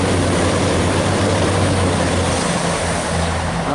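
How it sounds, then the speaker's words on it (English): A train passes close beside an allotment plot with a loud, continuous rumbling roar and steady low hum that fills the whole moment. "that's why you can hear the trains, because they are literally on my doorstep"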